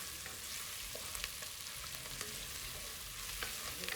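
Onions with cinnamon, cloves and cardamom sauté in sunflower oil for an egg curry, giving a steady close sizzle with faint stirring scrapes throughout and no voices.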